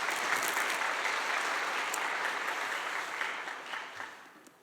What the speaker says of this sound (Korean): 한번 우리 시작하니까 박수 한번 칠까요?